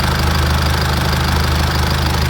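A Mercedes-Benz diesel sedan engine idles steadily up close, a constant low rumble with a rhythmic knocking chatter.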